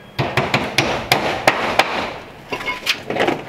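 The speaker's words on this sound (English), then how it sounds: "I'm gonna have to put two nails in right here." A hammer drives nails into stucco lath wire in a steady run of sharp, close strikes, about a dozen in quick succession, with a brief pause before a final few lighter taps.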